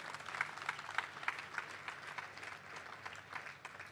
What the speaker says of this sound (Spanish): ¡Démosle un aplauso a Jesús!